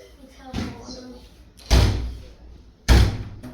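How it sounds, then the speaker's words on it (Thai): A door closes indoors in a bedroom with an air conditioner, two loud close thuds about a second apart after a softer earlier bump, with faint background noise between. "ประตู"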